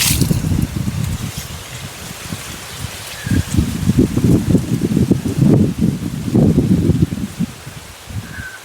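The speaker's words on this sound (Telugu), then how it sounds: "ఇంకా అన్నిటికీ కూడా అలాగా నీళ్ళు వేసేస్తున్నామండి" Water is sprinkled from above onto freshly planted vegetable seeds in soil beneath large trees, a soft continuous patter and splash with rustling, close and steady, with no one speaking.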